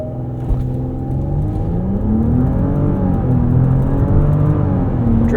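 Porsche Cayenne E-Hybrid (2024) launching hard from a stop, its engine note rising steadily in pitch through the gears with a loud, continuous rumbling whir heard from inside the cabin, alone without talk.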